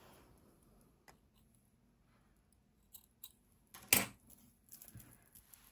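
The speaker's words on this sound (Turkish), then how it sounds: "Artık burada ipimi kesiyorum." Scissors snip through crochet yarn at the end of a knitted pullover, faint clicks and one sharper, louder cut near the middle over a quiet background.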